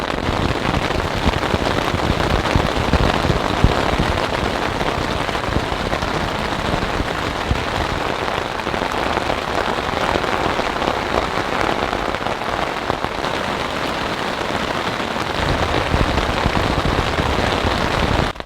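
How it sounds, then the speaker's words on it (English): Heavy rain pelts a tent during an overnight solo camp in a storm, a dense, loud, steady patter filling the whole stretch without pause, with no one talking. "I wonder if I'm in for like an entire night of rain, or is this just a passing storm?"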